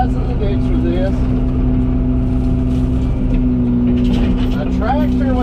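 A tractor-mounted roadside ditch mower runs with a steady droning engine hum close by, while someone talks over it throughout.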